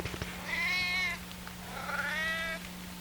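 Two drawn-out meows from a cat close to the microphone, each about a second long, over a steady low electrical hum in a quiet room.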